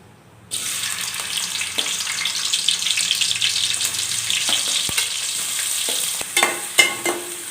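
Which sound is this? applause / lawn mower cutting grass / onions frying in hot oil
onions frying in hot oil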